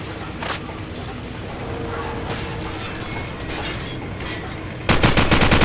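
Gunfire in the Call of Duty 4: Modern Warfare video game, a loud, continuous mechanical clatter that jumps into a denser burst of rapid shots near the end.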